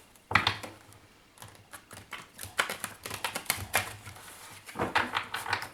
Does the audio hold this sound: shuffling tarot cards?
yes